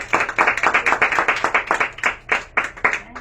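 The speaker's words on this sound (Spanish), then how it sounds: "Un aplauso a Dios, hermanos." A church congregation claps in rhythm, a loud burst of steady, evenly spaced handclaps that fills the room.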